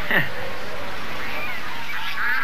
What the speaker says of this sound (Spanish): Mira, Nico, son patos.